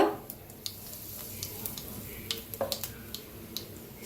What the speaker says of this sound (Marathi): आता त्याच कढईत जिरं घालूया 1 चमचा